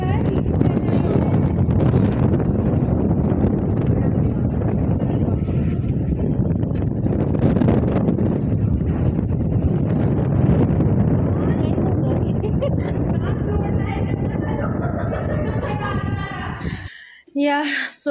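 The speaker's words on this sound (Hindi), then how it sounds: "इतनी तेज हवा चल रही थी" Strong wind buffets the microphone outdoors at a design festival at a university in Chandigarh, a loud continuous roar with rumbling gusts, and a voice speaks over it before it briefly drops out near the end.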